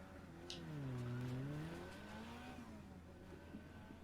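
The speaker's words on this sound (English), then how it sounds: "Nearly got hit by a car." A car drives by in the underwater crab game Another Crab's Treasure, its engine tone rising and falling in pitch as it passes close and loud, then fading out; no one talks.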